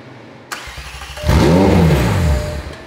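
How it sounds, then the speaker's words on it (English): The engine of a wrecked McLaren 720S cranks after a brief click, then catches and revs loudly, the pitch sweeping up and falling back before settling toward idle. "The engine was running to temperature quite nicely and everything sounded good"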